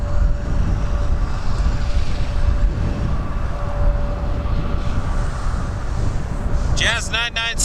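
A Jazz Embraer 175 airliner passes at Toronto Pearson with a sustained, fairly loud engine roar and a steady whine, before a voice begins talking near the end.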